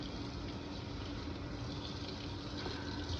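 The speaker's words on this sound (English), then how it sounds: "And then I rinse this with hot water." Hot water runs steadily from a tap into a metal milk bucket for rinsing, a continuous close gushing fill with no talk over it.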